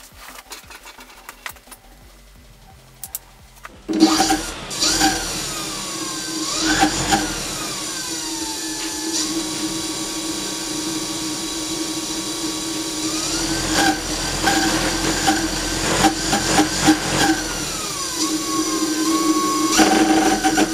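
Car alternator used as an electric motor on a 48-volt go kart, a steady close whine that rises and falls in pitch as it spins up, following a few clicks and handling noises at the start.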